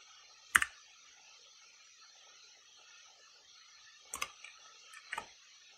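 Isolated key presses on a custom mechanical keyboard, one sharp clack followed after a long quiet gap by a few more quick clicks against faint background hiss.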